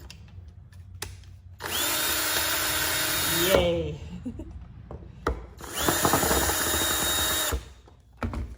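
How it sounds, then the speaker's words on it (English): Power drill backing out hardware from a thrifted wooden furniture piece, two long whirring bursts separated by a pause, close and loud, with brief handling knocks and a short exclamation from a person. "Hopefully I can do it with a drill because that makes it so much easier."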